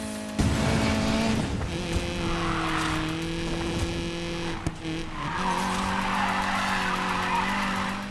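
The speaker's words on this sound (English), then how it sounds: "when you're drifting on this game in this MX-5, it is really controllable" A Mazda MX-5 drifts in Need for Speed Payback, its engine droning steadily with long, sustained tire skids close up throughout. No one talks.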